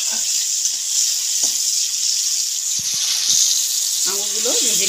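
Grapes frying in hot oil and ghee, a steady bright hiss of sizzling throughout, with a few faint clinks and a brief voice near the end.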